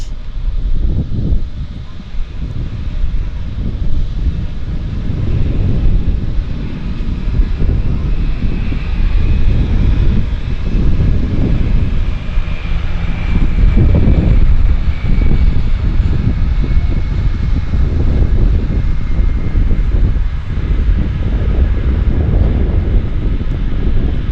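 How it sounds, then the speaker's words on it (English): A Twin Otter plane flies past at a harbour airport, its broad propeller and engine roar loud and steady throughout with some wind buffeting the microphone. "Twin Otter, folks"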